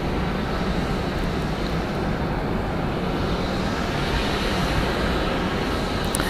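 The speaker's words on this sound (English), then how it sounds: "Delta Airlines flight 2556 going to DSM. It is a Boeing 717, 21 years old." A 21-year-old Delta Boeing 717 departing Atlanta Hartsfield-Jackson airport gives a constant, dense roar that stays loud and even throughout, with no talking.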